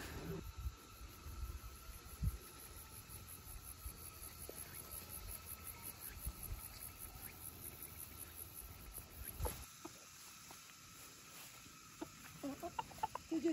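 Chickens kept under millet plants in a hillside field cluck and call faintly at a distance, with a steady drone of crickets and insects and scattered rustling throughout.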